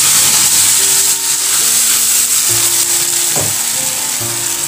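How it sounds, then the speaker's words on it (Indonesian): Blended shallots, garlic and red chili sizzle and fry in a pan, a loud continuous hiss with faint stirring clinks and no talking. "Nah, setelah dihaluskan kita tumis dulu."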